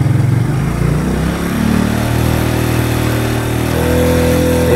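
A motorcycle engine revs hard as the throttle opens, pushed past 3000 rpm during a charging-voltage test. A loud, steady mechanical drone rises in pitch midway and holds there, close to the microphone with no talking.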